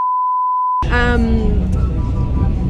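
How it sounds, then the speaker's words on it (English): A phone emergency alert for a severe storm in Cusco, Peru opens with a steady pure beep tone, then shifts into a loud layered warning signal that holds to the end. "received an alert on his phone about a severe storm"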